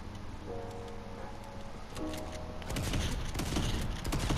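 Rapid gunfire from a Fortnite weapon like a semi-automatic DMR, with a run of sharp shots that grows louder and denser over the second half.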